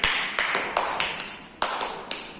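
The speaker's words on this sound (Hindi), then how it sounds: "एक बार विशाल जी के लिए जोरदार ताली हो जाए" Audience clapping for a participant named Vishal at a children's mock parliament event, loud scattered claps in an uneven burst, close and dry with no voices over it.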